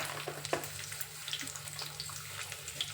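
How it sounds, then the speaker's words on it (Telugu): Cumin seeds fry in hot oil in a home kitchen, making a soft, steady sizzle with scattered small pops and crackles. The sizzle is faint and close, and no one speaks. "జీలకర్ర అంతే కొంచెం వేగాలి"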